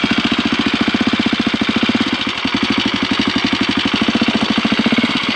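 A KTM motorcycle engine, out on a rugged backcountry route in southern BC, runs steadily close by, its fast, even firing pulses loud and unbroken throughout with no talk.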